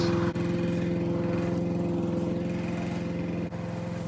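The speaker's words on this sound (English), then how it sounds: "So I'm freaking push mowing to try and find this angle beam in table high grass." Push lawn mower cutting table-high grass outdoors, its engine droning steadily and loudly close by, with a brief dip in the running sound near the start and again near the end.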